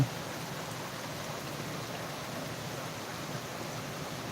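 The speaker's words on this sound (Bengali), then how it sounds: "দেখো বন্ধুরা কত বৃষ্টি হচ্ছে" Heavy downpour outside a house with water pooling all around, heard as a dense, even hiss of rain that holds at a constant level throughout with no talking.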